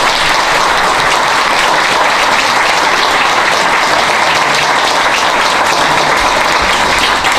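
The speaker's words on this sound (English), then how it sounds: "Can we just give all of us a round of applause?" Loud, continuous applause fills a packed, hot room of attendees at a talk on combating extremism in Seattle, a dense, unbroken roar of many hands clapping with no talk.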